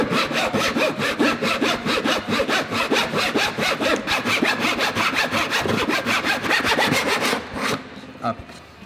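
Wood being cut with a hand saw in a miter box for an electric guitar build, with rapid, even back-and-forth rasping strokes, close and loud, that stop near the end before a couple of soft knocks.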